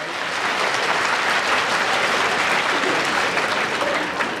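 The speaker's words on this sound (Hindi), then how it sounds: "जोरदार तालियों से इनका इस्तकबाल करें।" Audience at a school annual day clapping for guests, dense, loud applause from a large crowd that holds steady from start to finish.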